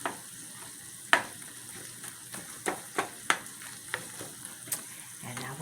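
Meat frying in a pan on a home stove, a continuous sizzle with periodic sharper crackles and stirring knocks, close up and without talk.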